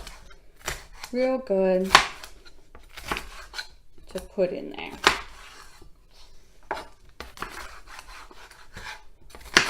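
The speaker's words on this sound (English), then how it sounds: "I'm just chopping this up" Food is chopped for a lettuce-free salad on a cutting board: irregular knife strikes and scraping, close by, mixed with a person talking.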